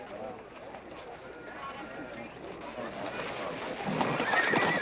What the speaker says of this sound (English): That Agamemnon's a good horse.